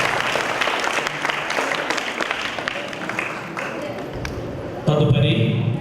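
Applause from a congregation welcoming guests at a church ceremony marking the start of Saint Thomas church reconstruction, a sustained wash of clapping mixed with a voice speaking over a loudspeaker.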